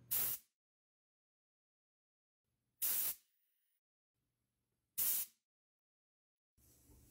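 Three short, loud blasts of compressed air from an air compressor nozzle, used to clean solder work, each about half a second with pauses between, followed by a softer hiss at the end.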